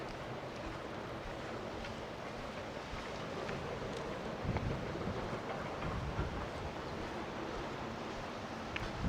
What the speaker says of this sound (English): Some gust of wind trying to blow me off course.